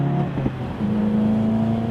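A 2015 Seat Leon Cupra 280 Performance Pack's turbocharged engine on a test drive holds a steady, loud, close drone that climbs slightly in pitch as it pulls.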